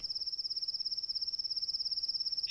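A steady, rapid cricket trill from the grass runs without pause, high-pitched and fairly close, with a soft faint rustle at the very end.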